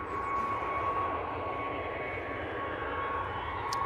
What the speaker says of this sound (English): 321 Neo on the roll for Easyjet